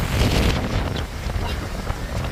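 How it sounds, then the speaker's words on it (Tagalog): Strong wind on Boracay beach buffets the microphone with a roaring, gusty rush, steady and loud throughout the short stretch. "Naglakas-lakas ng hangin."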